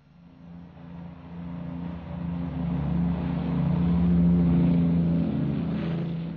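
Aircraft engines roaring on a Heathrow runway at takeoff, a steady low-pitched rumble that swells from moderate to loud and holds near its peak, with no voices over it.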